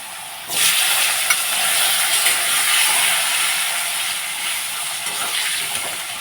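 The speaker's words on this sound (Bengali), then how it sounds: "আলুগুলোকে 2-3 মিনিটের মতো একটু লালচে করে ভেজে নেব" Two potatoes frying in a pan with white cumin and bay leaf for a koi fish curry, a loud hissing sizzle bursting in as they hit the oil and holding steady nearby, no talking.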